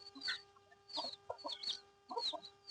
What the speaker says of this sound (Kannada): ನೋಡಿ ಯಾವ ರೀತಿ ಕಿಡ್ಕೊಂತಿದೆ ಕೋಳಿಗಳು.